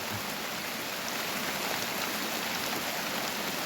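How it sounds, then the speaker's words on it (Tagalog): Steady, dense rain on a mountaintop hisses continuously with no pauses, a broad wash of falling water that stays even and fairly loud throughout. "ang malakas na ulan"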